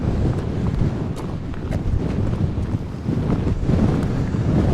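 Strong wind buffets the microphone on an exposed fell between Lords Seat and Broom Fell, a loud, steady low roar with gusting surges throughout and no voices.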